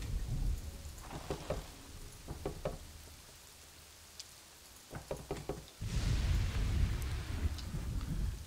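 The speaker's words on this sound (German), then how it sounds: "Schwerer Regen zerstört hier auch nochmal zwei von den Feldern." Heavy rain and rumbling thunder from a city-building game, steady rain hiss with scattered low thunder rolls and sharper cracks, then a louder rain surge near the end, no talk.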